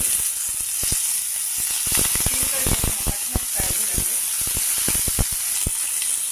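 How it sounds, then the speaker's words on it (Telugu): Urad dal, mustard seeds, cumin and curry leaves sizzle and crackle in hot oil for a tempering, with steady frying hiss and many sharp popping spatters close by, spread irregularly throughout. "ఒక స్పూన్ మినపప్పు కొద్దిగా ఆవాలు కొద్ది జీలకర్ర జంతల పోపు వేయండి ఇదంతానే ఇప్పుడు కొద్ది కరివేపాకు పోపు వేయండి"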